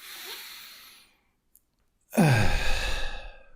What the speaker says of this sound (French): Tu inspires par le nez et tu vas souffler fortement par la bouche